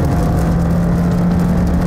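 A 2017 Subaru Forester's 2.5 litre engine accelerates, giving a steady, close, droning hum that holds evenly throughout without clear gear changes.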